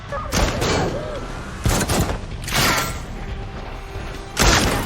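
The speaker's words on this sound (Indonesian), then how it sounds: "dari belakang Corvo langsung melesatkan tembakan." Several loud bursts of gunfire crack out in separate volleys, each with a booming tail, over a busy background of action-scene noise.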